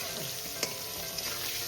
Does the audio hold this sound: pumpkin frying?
yes